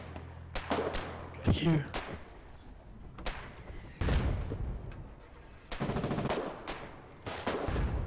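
Rifle fire crackles across a Foxhole frontline battle, with repeated sharp shots and bursts coming in irregular clusters, some close and loud, others more distant, mixed with thuds.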